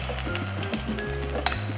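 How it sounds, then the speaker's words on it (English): A savory Korean pancake (pajeon) fries in an oiled pan, a constant close sizzle and crackle with low kitchen hum underneath, no talking. "So while this is frying here"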